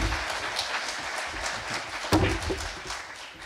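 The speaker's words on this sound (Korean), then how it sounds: "우리 박수로 한번 보내주시죠." Lecture audience applause: a moderate patter of handclaps from a seated crowd, even and fairly soft, with one sharper thump partway through.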